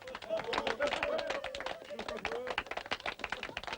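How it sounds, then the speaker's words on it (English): An audience claps at the end of a children's play, dense hand-clapping spread across the whole stretch at steady loudness, with voices mixed into the noise. "Everyone claps."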